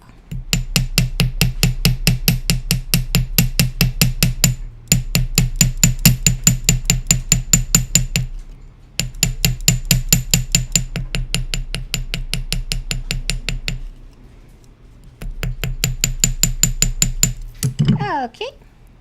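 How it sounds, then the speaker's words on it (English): Rapid, rhythmic metallic tapping of a small hammer flattening jewelry wire on a metal block, in quick bursts separated by short pauses, ending with a brief voice. "You only want to hammer the shape"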